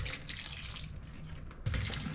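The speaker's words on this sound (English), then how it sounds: "Let it go down that drain right there." Enzyme drain treatment pours into a shower drain, producing a steady trickling, splashing flow that grows slightly louder and fuller near the end, with no talking.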